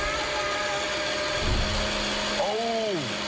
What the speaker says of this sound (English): Oh, drowned out by the blender.